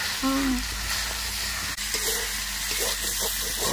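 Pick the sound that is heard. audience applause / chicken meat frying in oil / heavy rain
chicken meat frying in oil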